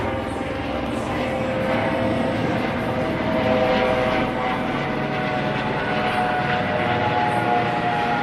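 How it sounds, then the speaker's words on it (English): A steady engine roar drones throughout, loud and constant, as a helicopter passes overhead in Las Vegas, with no talking. "This is the sound of a Las Vegas helicopter."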